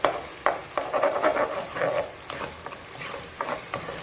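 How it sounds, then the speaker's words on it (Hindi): Brain masala frying over high heat in a pan, with repeated scraping stirs and a steady sizzle, close and moderately loud with no talking. "और फिर हम इसको तेज़ आंच से अच्छी तरह कुक करेंगे, ऐसे से अलग अलग करके।"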